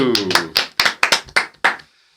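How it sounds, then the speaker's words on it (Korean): Several sharp hand claps in an uneven sequence, close by, with a brief pause before the last one. "박수."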